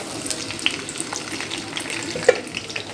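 Dried red chillies and garlic fry in hot oil with a steady soft crackle and hiss, a few sharper pops standing out now and then, close and moderately quiet.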